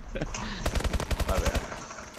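Rapid automatic gunfire in the video game Call of Duty: Advanced Warfare, a loud, close burst of evenly spaced shots lasting about a second, with a few scattered game sounds around it.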